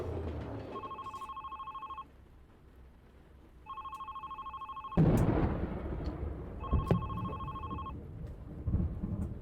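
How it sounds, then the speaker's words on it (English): Old-style telephone bell ringing in the video game The Red Strings Club, three long electronic ring bursts with pauses between, the later ones over a low rumble of thunder and rain. "And this phone's just gonna sit here ringing until we actually make a choice."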